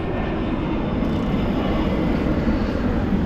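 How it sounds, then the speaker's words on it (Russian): An airplane coming in to land near Adler, Sochi, makes a steady, loud, broad jet roar that holds without a break, close overhead. "Еще самолет идет на посадку."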